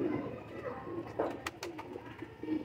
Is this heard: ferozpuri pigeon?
yes